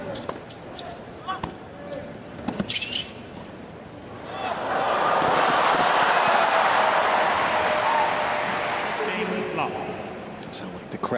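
At a US Open first-round tennis match, scattered court sounds and ball hits give way to a swelling crowd roar that holds loud for several seconds before easing back, with a commentator talking over parts of it.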